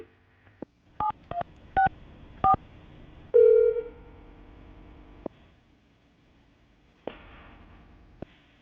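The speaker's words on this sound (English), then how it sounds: "We're going to call him right now and see if we can get him on the phone." A series of short touch-tone beeps as a number is dialed, followed by a longer tone, then clicks and quiet line noise.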